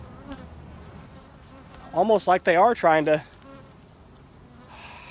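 Honey bees from a cutout swarm out of a bucket in a bee yard, a dense, steady buzzing hum throughout, with someone speaking briefly over it.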